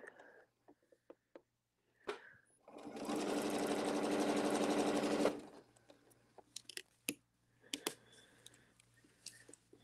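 A sewing machine stitching a seam within the seam allowance runs in one steady, loud burst of about three seconds, with scattered clicks and small handling noises before and after.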